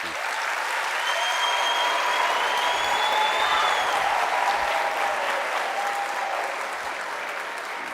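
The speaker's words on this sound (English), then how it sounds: "I would want you to give a big round of applause, ladies and gentlemen, for all these colleagues." A large graduation ceremony crowd gives sustained applause for colleagues, a dense, even roar of clapping that holds steady for several seconds, with faint voices briefly audible above it.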